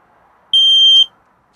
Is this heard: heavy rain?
no